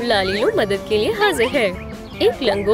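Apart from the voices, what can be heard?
No distinct noise like a dog, phone or traffic.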